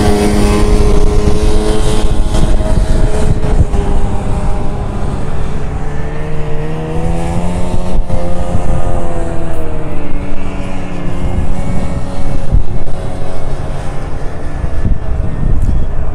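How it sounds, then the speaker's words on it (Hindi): A snow bike engine runs on snow at Zojila Pass, a steady loud motor drone with shifting harmonic tones that rise and fall in pitch throughout, close and continuous with no talking. "और ऐसा होता है स्नो बाइक"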